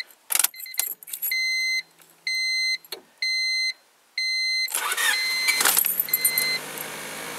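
Keys jingle, then a 1999 Honda Civic chimes in repeated beeping bursts before the engine cranks and catches, settling into a steady idle up close.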